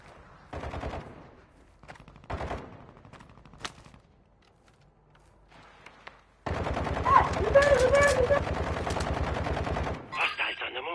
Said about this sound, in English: Throwing decoy grenade.